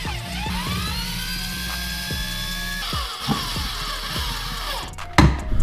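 A cordless power drill drives screws to fasten a fuse block to a wall during jon boat wiring work. The motor whines loudly and ramps up and down in several bursts, ending with a clattering handling noise.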